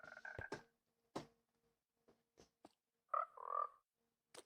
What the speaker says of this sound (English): quite a few frogs in there.